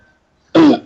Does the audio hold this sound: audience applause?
no